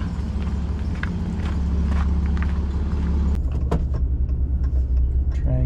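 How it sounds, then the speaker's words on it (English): Car engine idling and rumbling close by on a road as the vehicle pulls up and settles into parking, with a low steady drone, scattered clicks and footstep-like scuffs over roughly six seconds. "A car just pulled up, parks on the road, so we'll see if it's them."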